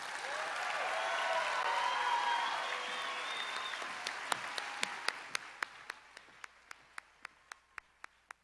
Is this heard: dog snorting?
no